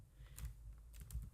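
Keys tapped on a computer keyboard while filling in a first-row table entry, with short clustered bursts of clicks close up over a low steady room hum.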